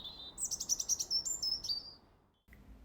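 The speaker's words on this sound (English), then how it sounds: "heard the birds singing" Bright, high bird chirps and trills in a quick run, fairly close, over a soft background hiss, then a short pause and a faint call.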